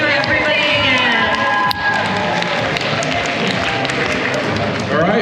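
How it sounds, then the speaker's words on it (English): Crowd applause and cheering at a winter anime-market cosplay contest in a mall, a loud, steady wash of clapping and shouts that runs continuously throughout, with voices mixed into the noise. "please give yourself a huge round of applause"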